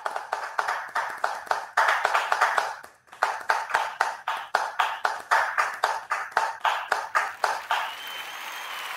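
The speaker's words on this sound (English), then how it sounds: "that was the longest clap I ever heard" A conference audience claps in rhythmic unison, a long run of sharp, evenly spaced hand claps that pause briefly and then resume steadily, fading into a softer wash of clapping at the end.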